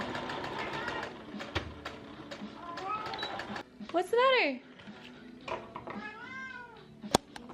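A cat meows in rising, wavering cries close by, with a low rumbling purr-like texture underneath and a person speaking briefly over it.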